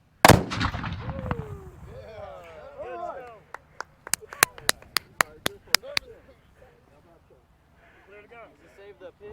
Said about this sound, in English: Gun one, fire